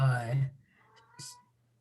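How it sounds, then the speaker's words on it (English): A house cat lets out a loud, drawn-out meow close to the microphone, followed by quieter background sounds during a panel discussion. "Sorry, my cat is just very loud."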